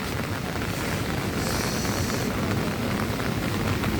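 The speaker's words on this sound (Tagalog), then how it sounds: "So lumalakas na ulit ang ulan." Heavy rain pours steadily over a flooded, potholed road in Bucana, a dense, unbroken roar of downpour with no voices.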